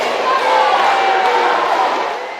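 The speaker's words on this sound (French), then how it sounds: "tonnerre d'applaudissements pour accueillir le président du Faso" Crowd of factory workers in Burkina Faso greeting the president with loud, continuous applause and cheering, swelling then easing slightly, with a voice speaking over it.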